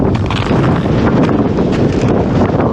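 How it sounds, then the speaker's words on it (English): Strong, steady wind on snowy Mount Washington in winter roars and buffets close against the microphone, a constant broadband rush with no voices. "Getting a little windy"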